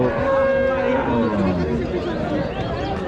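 Cattle lowing at a busy heifer market in Rajshahi, one long deep moo rising clearly over a constant murmur of crowd chatter and voices.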